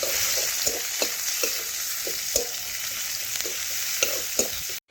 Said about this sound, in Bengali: সেই পেঁয়াজ কুচি দিয়ে দিলাম তেলের মধ্যে। পেঁয়াজ একটু লাল লাল করে ভেজে নেব।